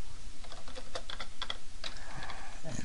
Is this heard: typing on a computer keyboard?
yes